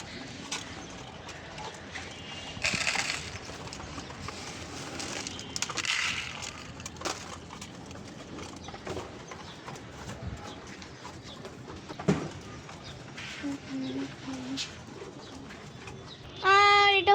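Pigeons on a rooftop in light rain, pecking at food with soft cooing and faint clicking, scattered wing flutters, and a voice talking quietly in the background.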